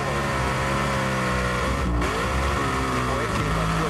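A drag racing car's engine roars at a four-wide drag strip, loud and sustained with a rising pitch as it revs, while announcers talk over it amid crowd noise.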